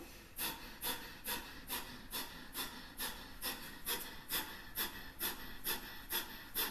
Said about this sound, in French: On va faire une respiration du feu.